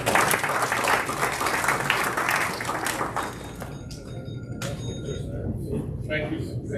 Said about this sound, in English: And we can applaud as he's coming up here.